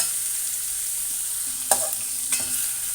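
Chopped onions and grated carrot frying in a pan, a steady hiss of sizzling oil broken by two quick stirring scrapes of a spatula, close and clear with no talking.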